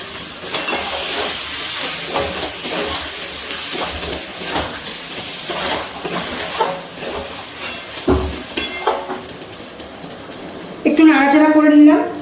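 Mutton cooks over a low gas flame in a covered pan, giving a steady hiss and sizzle with scattered clinks, and the lid is lifted near the end; a voice is faintly heard.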